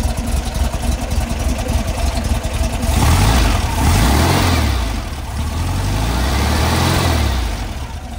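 A 1979 VW Combi T2b engine with a Vintage Speed exhaust idles, then revs up and down in a few rising and falling swells, loud and close with no talking.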